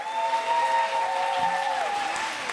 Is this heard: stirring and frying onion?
no